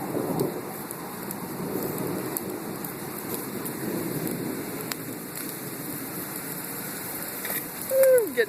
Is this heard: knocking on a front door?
no